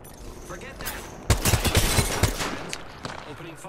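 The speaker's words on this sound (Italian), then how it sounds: "Cazzo, mi stanno sparando." Gunfire in the Apex Legends battle royale game, a fast burst of about six sharp shots in quick succession followed by a few scattered distant pops, mixed with game noise.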